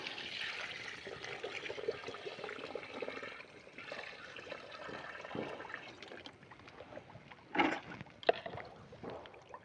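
Water trickles and splashes softly as it is poured into a container of fresh cow dung for organic fertilizer, a faint, uneven pour with a couple of louder splashes near the end.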